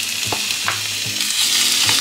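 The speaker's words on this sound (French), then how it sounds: "on continue de touiller au risotto" Risotto cooked in chicken stock being stirred in a pan over lowered heat, a bright steady sizzle with several spoon scrapes and soft stirring thuds, close and loud.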